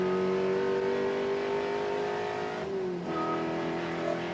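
Spec Corvette race cars run side-by-side on a circuit during an opening lap, their engines a loud, steady roar that holds a sustained pitch and then dips and shifts briefly near the end, as if easing off and back on.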